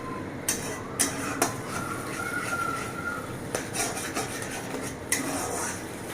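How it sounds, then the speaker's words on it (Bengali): Spiced potol curry with yogurt is stirred in a pan over a raised gas flame: repeated spoon scrapes and metallic clinks against the pan over a continuous close sizzle. "আবারও এটাকে একটু নেড়ে ছেড়ে নেব"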